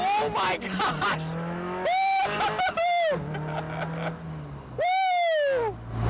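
A Camry-swapped Toyota MR2 accelerates hard, its engine note climbing in strong sweeping pulls with shifts between them, loud and close from inside the car, with excited speech between the pulls.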